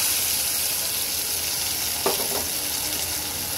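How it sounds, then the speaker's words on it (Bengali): Spice paste goes into hot oil already holding fried cumin and bay leaf, a dense sizzle with a brief louder burst of spattering and scraping about midway. "এখানে আমি জিরা তেজপাতাটা ভেজে নিয়েছি। এখন আমি মশলাটাকে দিয়ে দেব।"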